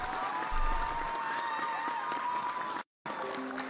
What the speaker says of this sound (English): Hit the claps for Gabriel.